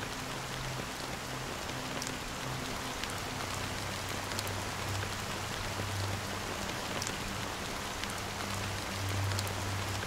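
Steady rain falls in a scene from the video game Honkai Star Rail, a constant dense hiss with soft low rumble throughout, no voices.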